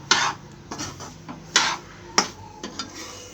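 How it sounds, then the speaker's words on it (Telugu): Semolina and sugar being stirred and slowly roasted in a pan over a medium flame, a spoon scraping and clinking against the metal in irregular strokes, close and fairly loud with no talk. "నిదానంగా వేయించుకోవాలండి."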